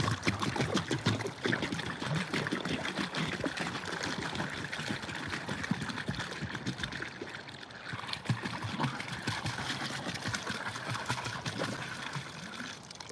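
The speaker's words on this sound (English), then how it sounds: "Let's get the water out of this thing." Water trickles and splashes as it is poured out of a heavy, full container outdoors, an uneven stream of gurgles and spatters lasting throughout at moderate distance.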